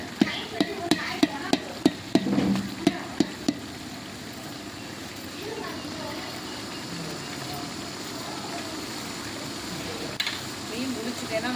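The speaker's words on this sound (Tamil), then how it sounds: "இப்போ தக்காளிலாம் நல்லா வதங்கணும்." Tomatoes sauté in a pan for chicken biryani while a spatula taps out about ten quick, sharp knocks against the pan, then give way to a steady, soft sizzle and hiss, with a voice speaking over it.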